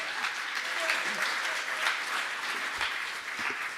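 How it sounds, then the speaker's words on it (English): Audience applause welcoming speakers from a high school missions team, a dense, steady wash of clapping in a room, with a few voices and faint cheers mixed in. "give them a warm round of applause"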